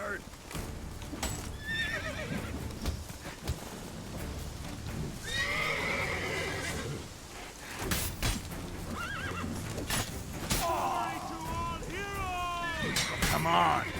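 A horse in The Witcher 3 whinnies several times over steady clip-clopping hooves, with game ambience and someone talking over parts of it.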